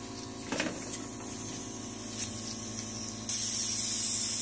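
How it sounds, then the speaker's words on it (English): A short hiss of a spray bottle misting onto skin during a machine facial, close and soft, over a steady background hum. "I'm going to spray him again."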